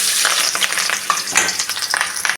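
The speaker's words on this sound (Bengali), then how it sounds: "এখন আমি মাছগুলো ভেজে নেবো আর আমি মাছ কড়া করেই ভাজবো" Fish pieces rubbed with salt and turmeric frying hard in hot oil in a kadai, giving a loud, dense crackling sizzle with bursts of spitting, close by, with no voices.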